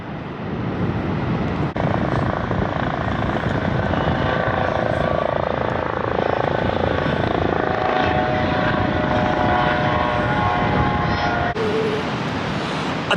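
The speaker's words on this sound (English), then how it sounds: "I think the purpose of that helicopter is... hang on a minute, it's just coming past." A helicopter passes over Fistral Beach in the off season. Its steady, loud rotor drone fills the whole stretch, blended with wind and surf.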